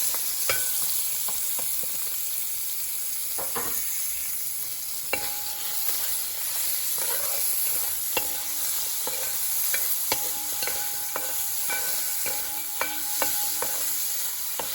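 A small onion sautéing in oil with turmeric powder in a pan while cooking tomato rice: a steady, bright hiss of frying, broken by frequent sharp clicks and scrapes of a spatula stirring, close and loud, no voices.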